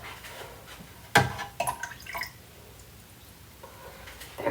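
A little more water splashed into a home coffee maker's reservoir from a small cup, a few short close pours and drips with clattering handling sounds, fairly quiet and without talk.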